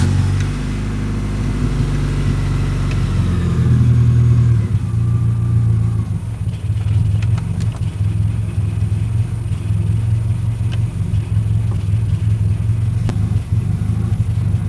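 A carbureted VW Golf 2 engine, set up to run on E85, starts on the petrol left in the carburettor bowl. It gives a loud low rumble that swells briefly before settling into a steady idle with faint clicks and no talk.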